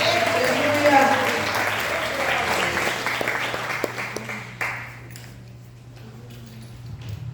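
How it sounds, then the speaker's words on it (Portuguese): A church congregation applauding during worship, a moderate wash of clapping with scattered sharp claps that thins out and stops midway, leaving quieter room sound with a low steady hum underneath. "Você pode aplaudir, Senhor, glorificando a Deus."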